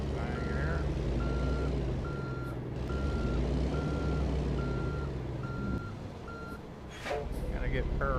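Large truck reversing, a repeating backup alarm beeping at a regular pace above a heavy, continuous engine drone, with a short burst of voices near the end.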